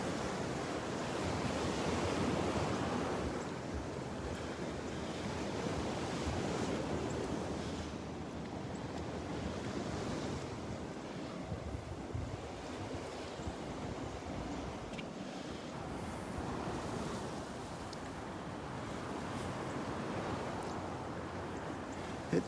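Waves wash onto the beach at Naples Pier in a continuous, rolling surf roar with gentle swells, mixed with some wind rumble on the microphone and no voices.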